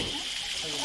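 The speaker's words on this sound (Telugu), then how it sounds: "ఆ నీటి సౌండ్ అయితే భలే ఉంది వినటానికి" Water rushing along the Phaladhara Panchadhara stream in the Nallamala hills, where it splits into five channels. A brief, steady, close hiss of flowing water, with no pauses.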